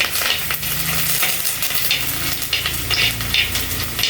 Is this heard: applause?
no